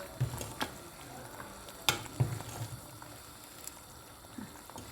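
Boncuk soup from Kayseri is stirred in a pot, with soft scraping and several sharp clinks of a spoon against the pot over a faint bubbling simmer, quiet and close.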